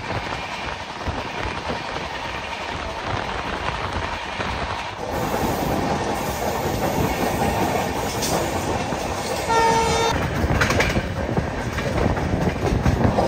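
Golconda Express passenger train running at speed, heard from inside with a steady loud rumble and rattling carriage clatter throughout, and a brief tonal sound that may be the horn near the end. No one speaks.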